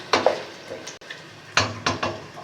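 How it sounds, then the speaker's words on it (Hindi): Ginger garlic paste frying in a metal pot for a chicken, turnip and spinach curry, with a utensil clanking and scraping against the pot in a few sharp knocks over a low steady sizzle. "अदरक लहसुन डालने के बाद इसे भी अच्छे से हमने कर लेना है फ्राई, ताकि इसकी हीक निकल जाए"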